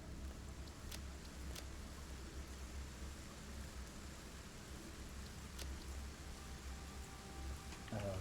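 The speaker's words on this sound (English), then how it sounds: "Oh, it's raining." Steady rain falls in the video game Satisfactory, a soft, even hiss of patter held under the game's ambience, faint and continuous with a few faint clicks.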